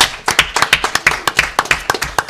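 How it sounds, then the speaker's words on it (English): Audience applause at a YouTube-themed talk event, heard as a brief, uneven patter of claps from a modest crowd, loud and close, with no voices over it. "Please give me a big round of applause for Cliff Baldridge."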